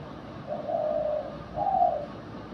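Two soft, hollow dove coos, each lasting about a second, replayed from a mobile phone as a hunting lure; mid-pitched and fairly faint over a light background hiss, separated by a short pause.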